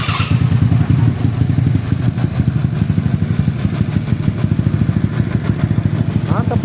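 A carbureted Honda Beat scooter with a 130cc bore-up engine starts, then settles into a loud, close, rapidly pulsing idle with a throaty rattle that runs steadily throughout.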